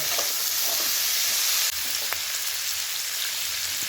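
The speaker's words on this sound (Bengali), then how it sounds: "আলুটা দিয়ে একসাথে ভেজে নামিয়ে নেব" A steady, dense sizzle of potatoes frying in a pan fills the clip, with occasional faint stirring clinks and no voices.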